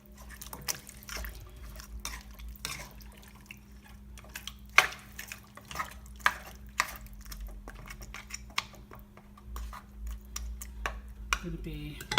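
Chicken curry with a cup of added water being stirred in a pot, soft wet clinks and scraping taps of a utensil against the pot, scattered and fairly quiet over a low steady hum.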